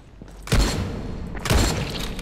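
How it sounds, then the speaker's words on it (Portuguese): Shotgun blasts in the zombie game Dying Light, two heavy booming shots about a second apart over steady game background noise. "o cara não morre com um tiro de escopeta"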